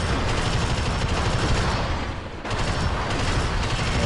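A sentry gun in Alien Swarm firing a relentless, loud stream of rapid automatic shots close by, with only a brief dip in the barrage midway before it resumes.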